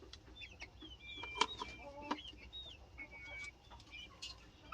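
Chickens cluck and chatter around a feeder on a farm, with several soft, scattered calls rising over a quiet background and one sharper squawk in the middle. All of it is fairly faint.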